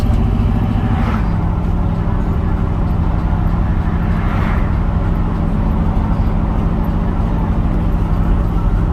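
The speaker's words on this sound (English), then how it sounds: "The window open so you can hear some exhaust sounds." A deep, steady V8 exhaust rumbles inside a moving 1970 Ford F100 pickup with a 460 big-block engine, heard through an open window, loud and droning, with a slight rise in pitch near the start.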